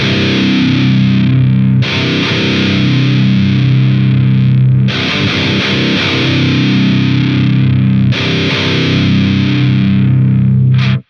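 Heavily distorted high-gain electric guitar through an amp simulator (AmpliTube 5, Powerball amp) plays loud, chugging palm-muted modern metal riffs in three sustained phrases, each ending with a brief pause before the next.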